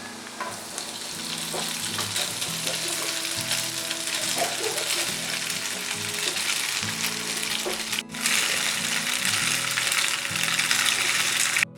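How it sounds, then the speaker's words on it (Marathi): Boiled penne pasta tipped into a pan of sizzling garlic sets off a loud, continuous frying hiss with rhythmic scraping and stirring, close up and unbroken for nearly twelve seconds, with no voices. "पास्ता जो आपण उकडून ठेवला होता तो मी यामध्ये घालत आहे"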